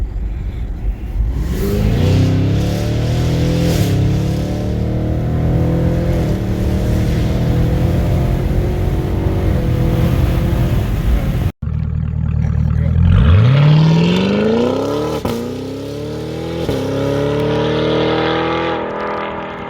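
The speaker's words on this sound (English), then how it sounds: "So here you have it, 2023 Blackwing Corsa exhaust, bi-mode." A 2023 Cadillac CT5-V Blackwing with a bi-mode Corsa exhaust revs hard and accelerates with a deep, loud exhaust roar, briefly cutting out before rising again through climbing gear pulls.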